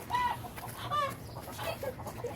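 Hens cluck in short, close, irregular bursts around a farmyard coop where ducks have just been introduced, with a few higher squawks over a steady low background.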